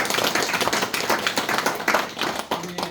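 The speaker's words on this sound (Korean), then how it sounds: "박수 쳐주시기 바랍니다" Clapping rises from an audience at a church thanksgiving service marking a chapel's move and launch, a lively patter of many hands at moderate distance.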